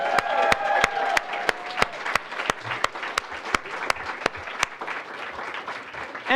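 An audience applauds an award recipient at a community awards ceremony, with sharp, loud claps standing out over a dense crowd clapping that continues steadily to the end.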